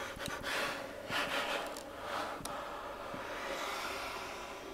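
An accordion's air button lets air rush through the bellows, imitating heavy breathing: soft, close whooshing swells and gasps over a few seconds, with faint clicks.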